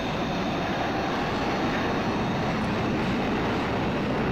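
Steady, loud roar of a Lockheed U-2S General Electric F118-101 turbofan engine in the X-Plane flight simulator game. The rushing noise is continuous and unchanging, with no talk over it.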